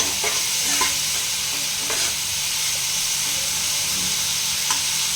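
Spice paste sautés in a pan for a papaya and potato curry, giving a continuous close sizzle and hiss with soft scraping from a spoon stirring at intervals.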